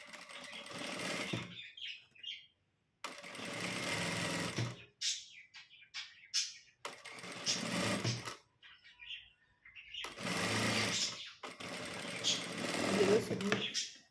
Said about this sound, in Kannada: ಒಂದು 1/4 ಇಂಚ್ ಎಡ್ಜಲ್ಲಿ ನೀವು ಈ ರೀತಿ ಇದನ್ನು ಸ್ಟಿಚ್ ಹಾಕ್ಕೊಳ್ಳಿ